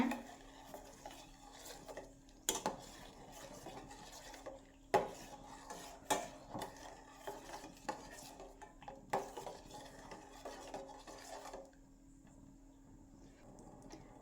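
A mixture in a pan on a kitchen stove is stirred continuously, a spoon scraping and knocking against the metal in irregular clinks at close range, with a faint steady hum behind.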